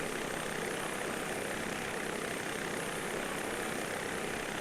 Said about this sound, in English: We're going to go ahead and put the helicopter down back.